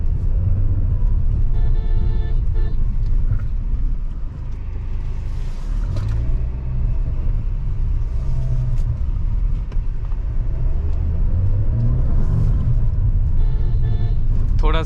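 A large black Tata Safari SUV creeps through a narrow village lane, its engine a steady low rumble close by, with people talking over it at times.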